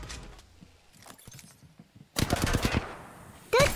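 Bursts of automatic gunfire from an Apex Legends-style shooter game, with a quieter stretch of scattered shots followed by a loud, dense volley and a final sharp burst; no one talks.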